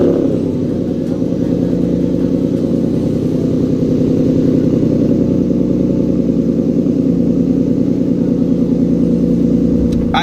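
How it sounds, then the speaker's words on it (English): A car engine on a cold start in a garage rumbles steadily and loudly close by at a low idle for the whole stretch, deep and continuous with a slight throb. "The cold start of this car was pretty awesome in the garage"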